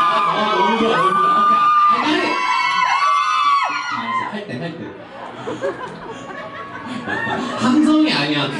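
Concert audience at a small live club show screaming and whooping wildly, loud and sustained for several seconds before tapering into scattered cheers and laughter.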